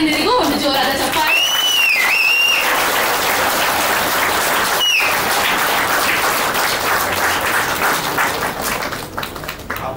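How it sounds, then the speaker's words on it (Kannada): An audience applauds loudly at a Kannada film event, dense sustained clapping with some cheering, while a voice talks over it and whistles cut through. "ಇಲ್ಲಿ ಮುದ್ದಾಗಿ ಕೂತಿರುವಂತ ಎಲ್ಲ ತಾಯಂದಿರಿಗೂ ಒಂದು ಜೋರಾದ ಚಪ್ಪಾಳೆ"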